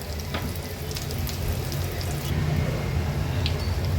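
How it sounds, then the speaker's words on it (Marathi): Mutton chops fry in a thin layer of oil in a pan, giving a steady, moderately loud sizzle that holds evenly throughout, with a few faint clinks and no talking. "थोडंसं असं तेल पसरून घेऊया आणि एक बाजू त्याची पहिला फ्राय करून घेऊया आपण"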